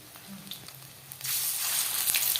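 Coated fish pieces drop into oil heated on a high flame: a quiet moment, then a sudden loud, steady sizzle and hiss that fills the rest of the clip, with no voices.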